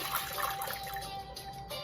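Washed split peas are poured into a stovetop pot holding 2.5 cups of water, making a soft, close splashing trickle with no talking.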